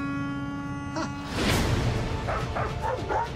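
A robot imitates a dog with a short burst of mechanical bow-wow barks and yips, loud and close, following a sustained electronic tone in a film trailer scene.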